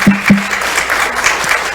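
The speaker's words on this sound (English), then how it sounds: "So let's give a round of applause to ourselves." Warm, continuous applause from a church congregation on Commitment Sunday, close and loud, with a brief voice near the start before the clapping carries on evenly.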